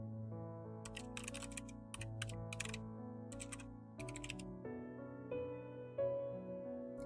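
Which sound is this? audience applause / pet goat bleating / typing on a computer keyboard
typing on a computer keyboard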